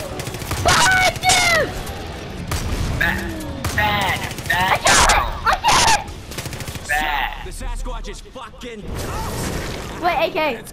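Gunfire from the Far Cry 5 zombie DLC, rapid bursts of shots and shattering impacts under excited commentary from a player talking throughout.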